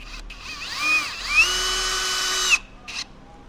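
A power drill drives a deck fastener down into a joist: a close, loud whining run that rises in pitch, holds steady for over a second, then cuts off, followed by a brief second burst.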